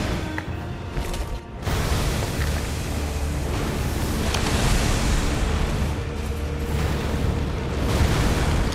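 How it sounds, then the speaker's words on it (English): A sustained, roaring blast from the Maliketh boss fight in Elden Ring rumbles loudly after a brief dip, holding as a dense, noisy boom with crackling bursts for several seconds. "Explosion."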